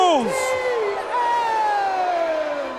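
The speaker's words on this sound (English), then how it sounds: "Man, those boos just broke the decibel meter." A wrestling arena crowd boos loudly after a disqualification finish, a dense, sustained roar of jeers and shouting that fills the hall.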